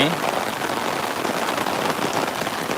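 Steady rain pours down over an open-air Thai market at Rot Fai (Riap Duan) market amid flooded ground, a dense, continuous hiss close by with no breaks.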